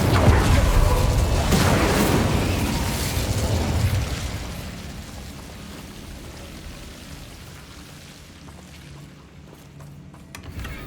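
The Incendio fire spell in Hogwarts Legacy goes off with a loud, burst-like whoosh and crackling roar that gradually fades into a softer rumbling tail.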